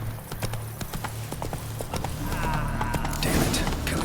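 Horse galloping in the video game The Witcher 3, rapid rhythmic clip-clop hoofbeats close by, followed by a louder rushing burst near the end.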